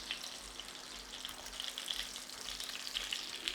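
Thin pork cutlets for tonkatsu fry in oil with a continuous crackling sizzle and scattered sharp pops, close and steady, with no talking.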